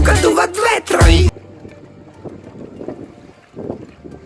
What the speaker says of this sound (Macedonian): тука дуват ветрови